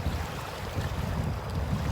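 Strong wind gusts over the Lam Takhong reservoir: a steady, rushing roar buffets the microphone, with low rumbling water noise underneath. It is continuous and fairly loud throughout, and no one speaks.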